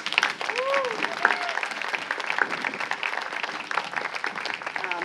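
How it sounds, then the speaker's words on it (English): A large audience at an evening garden event of music and art claps in a sustained, dense round of applause, with voices and cheers mixed in throughout. "join me in a big round of applause for Frances Fisher"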